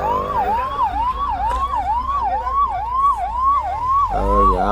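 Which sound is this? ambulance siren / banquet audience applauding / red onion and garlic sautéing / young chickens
ambulance siren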